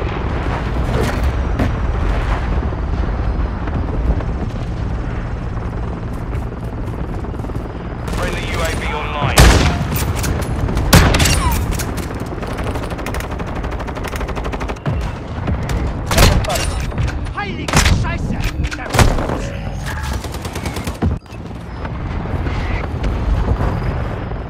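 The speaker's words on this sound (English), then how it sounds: "Friendly mortar strike inbound." Video game firefight at Al Bagra Fortress with a friendly mortar strike: repeated heavy booms and bursts of gunfire layered over a dense, continuous battle din, with louder blasts clustering midway, and voice chatter mixed underneath.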